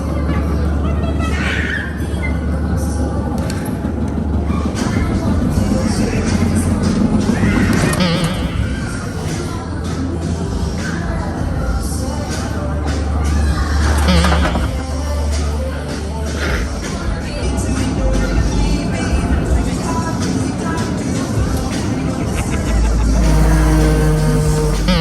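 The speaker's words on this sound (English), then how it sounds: "Yes, I know, bumper cars at sea, you just have to," Bumper cars on the Anthem of the Seas cruise ship, a continuous rumble of electric motors with scattered thumps and knocks from collisions, loud and busy throughout, with voices mixed in.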